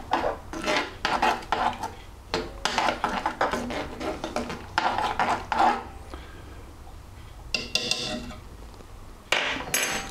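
A spoon stirring vanilla bean paste into an ice cream mixture in a bowl, making repeated scraping and clinking strokes in an uneven rhythm, close and moderately loud.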